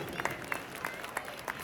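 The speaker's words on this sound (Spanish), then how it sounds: "Un aplauso fuerte a todas las Peñas de Arnedo" Applause from a festival crowd of Arnedo's peñas at a live concert in La Rioja, heard as a dense, fairly quiet wash of clapping with a few sharper individual claps standing out at a roughly regular pace.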